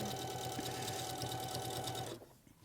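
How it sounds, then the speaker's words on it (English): A sewing machine stitches a patchwork baby quilt, humming close and steady for about two seconds before it stops abruptly. "you're just sewing round that box"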